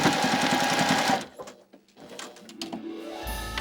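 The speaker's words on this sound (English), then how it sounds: "I'll lock my stitches." A sewing machine runs in a steady, close whirring burst as it locks the stitches on a quilted Christmas stocking, then stops and leaves a few small handling clicks and bumps.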